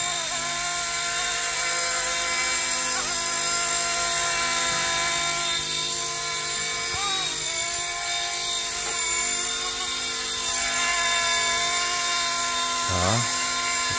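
Steady whirring rotor and motor whine of a small MD500 scale RC model helicopter hovering close by with automatic altitude hold, constant throughout with faint shifts in pitch.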